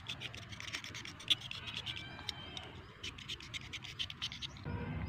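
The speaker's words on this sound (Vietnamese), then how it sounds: "Dùng dao thì mình cạo cái lớp nhờn ở bên trong này, nó sẽ rất là dễ dàng." A knife blade scrapes the slimy inner layer of bark from a rose stem, giving close, faint, repeated raspy strokes in an uneven rhythm.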